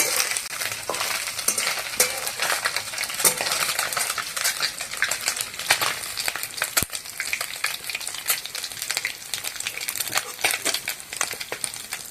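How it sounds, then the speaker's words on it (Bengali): Mourala fish frying in hot oil, a dense continuous sizzle with frequent sharp scrapes and clicks of a utensil as the pieces are lifted out. "মাছ ভালো করে ভেজে নিয়েছি, তেল থেকে তুলে নেব।"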